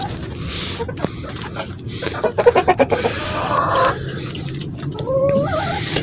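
Hens cluck in a quick burst of rapid pulses amid a busy, noisy yard, with other chatter and scuffling around them.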